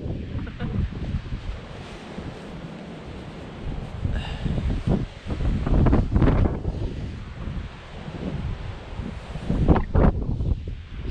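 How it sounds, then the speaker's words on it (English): Strong wind buffets the microphone in loud, rumbling gusts that rise and fall throughout. "It's very windy and cold."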